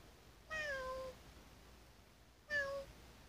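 Two distinct cat meows, each about half a second and clearly tonal, sounding fairly near and separated by a quiet pause during a children's animal game.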